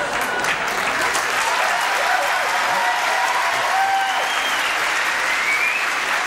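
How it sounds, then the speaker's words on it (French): A TV studio audience applauding, sustained and dense clapping from a crowd that continues steadily, with faint voices mixed in. "le public vous applaudit"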